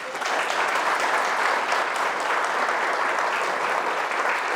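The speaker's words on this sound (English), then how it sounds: "Mr. Eller, a big round of applause." A crowd gives a big round of applause for a speaker at a talk about Bigfoot investigation. Dense, even clapping holds at a steady, fairly loud level from start to finish.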